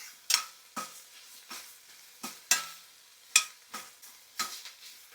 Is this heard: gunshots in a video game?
no